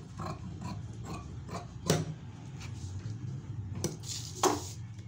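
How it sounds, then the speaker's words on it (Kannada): Scissors cutting blouse fabric give faint, intermittent crisp snips and metallic clicks, with a few sharper cuts standing out against a quiet room, and no talking. "ಎಕ್ಸ್ಟ್ರಾ ಬಂದಿದ್ದನ್ನು ಕಟ್ ಮಾಡಿಕೊಡೋಣ ಈಗ."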